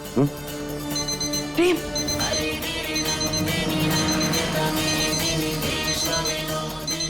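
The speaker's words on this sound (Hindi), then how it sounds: "ये आवाज हमारे फोन की है। ये हमारा अलार्म है" A mobile phone alarm rings in repeated melodic tones, set to go off when a grandmother's medicine is due, playing steadily throughout with voices and background music underneath.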